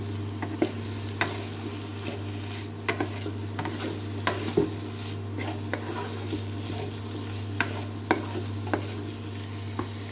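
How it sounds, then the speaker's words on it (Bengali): A spoon stirs fried spices into whole chickpeas and kidney beans in a pan, making soft repeated scrapes and clicks over a constant low sizzle and hum. The strokes come in an irregular rhythm, close and moderately loud. "এবার গোটা ছোলা এবং রাজমা দিয়ে দেওয়ার পরে ভালো করে মশলাটাকে মাখিয়ে নিতে হবে।"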